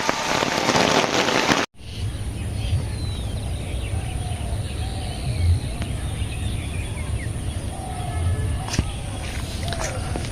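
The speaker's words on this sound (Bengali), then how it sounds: "এখন বাতাস কমছে বৃষ্টি আছে মোটামুটি" Steady rain pours down outdoors, a dense constant patter after a brief abrupt cut near the start, with a faint bird call now and then.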